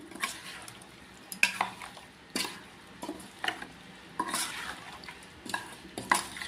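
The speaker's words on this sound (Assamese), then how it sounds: "তাৰপিছত আকৌ এবাৰ ভালদৰে লৰাই দিছোঁ" Bilimbi pickle is stirred after cooled oil is poured over it: quiet, rhythmic scraping and clinking strokes of a spoon against the pot, about one every second, with no talking.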